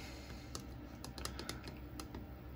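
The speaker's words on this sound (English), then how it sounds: "you can just keep clicking buttons and it does stuff" Buttons on a Bureck digital thermostat controller for a Chinese diesel heater being pressed in quick succession, a scatter of light irregular clicks over a steady background hum, close up with no voices.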